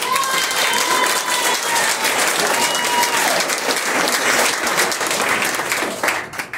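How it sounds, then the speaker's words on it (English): Loud, dense applause from a comedy-show audience fills the room steadily for several seconds, with scattered whoops, before tapering off near the end. "Give him a big round of applause."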